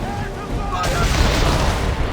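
Ship cannons fire in a naval battle in the video game Assassin's Creed III, a sudden loud blast breaking in partway through and rolling into a dense, rumbling barrage amid shipboard noise and shouted voices.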